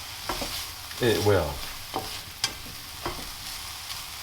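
Bacon frying in a pan, a steady soft sizzle broken by a few sharp scrapes and taps as it is stirred, with a brief word spoken partway through.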